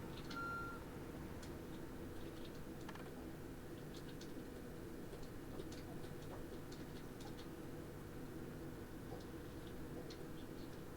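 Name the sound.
vehicle reverse beeper in the video game Project Zomboid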